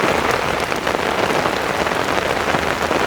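Rain falling at a second-hand car lot, a dense steady patter hitting surfaces close by, loud and unbroken throughout with no talk over it.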